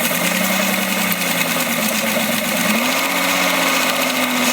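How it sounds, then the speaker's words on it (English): A 3 Wolf belt sander clamped to a bench pin hums steadily while sanding flat, a continuous motor whine with a slight pitch rise partway through, close and unbroken. "And now I can sand flat here."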